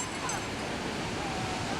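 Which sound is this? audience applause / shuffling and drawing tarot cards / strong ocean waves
strong ocean waves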